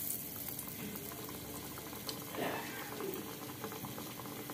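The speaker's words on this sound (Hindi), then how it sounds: "हम इसको तेल में डाल देंगे।" A besan-coated leftover chapati cutlet fries in oil with a soft, bubbling sizzle at low level and a faint burst partway through, and a voice is faintly present nearby.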